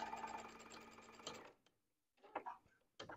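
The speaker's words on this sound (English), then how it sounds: "I'm going to straight stitch down, across, down to the bottom." Sewing machine straight stitching fabric, a fast close needle chatter for about a second and a half, then a pause and two short bursts of stitching, no talk.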